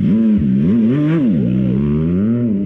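An MV Agusta Rosso inline-three motorcycle engine revs up and down in rising and falling surges, loud and close, with a throbbing, uneven tone.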